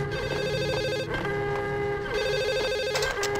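A telephone rings steadily and loudly in the Max Payne video game, its electronic bell repeating in continuous pulses with a brief break partway through, alone with no voices over it.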